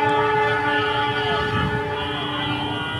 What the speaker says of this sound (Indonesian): Detik-detik sebuah mobil nyaris tertabrak kereta api di perlintasan warung bambu Karawang.